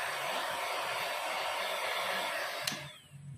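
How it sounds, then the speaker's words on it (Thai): A Stanley hot air gun blows a steady, loud, close rushing hiss while it shrinks plastic film onto a balm jar. The gun clicks off near the end and the airflow fades away. "เดี๋ยวเราจะเป่าให้ดูนะครับก็คือใช้เป็นเป่าลมสแตนเลย์ครับ"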